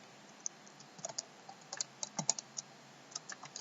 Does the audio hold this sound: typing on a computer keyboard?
yes